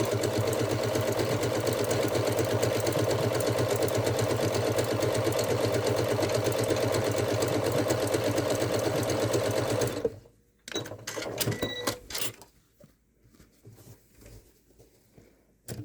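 Sewing machine running a satin stitch for appliqué in one continuous fast, buzzing whir for about ten seconds, then stopping, followed by scattered clicks and handling noises.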